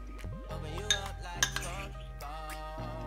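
A spoon clinks against a bowl while pakoda batter ingredients are mixed, with a few bright metallic taps and scrapes under steady background music.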